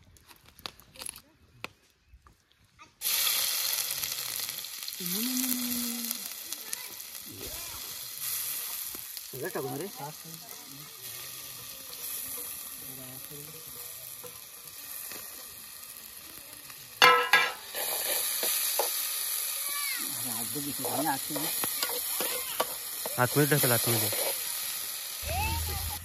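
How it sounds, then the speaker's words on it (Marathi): Chicken crackles and sizzles in a pot over a wood-fired clay stove outdoors in the hills, a loud, continuous frying hiss with stirring scrapes, while people talk over it. "चला मग आता आपण आपली चूल पेटली की लगेच आपण स्मोकी चिकन बनवायला स्टार्ट करूया"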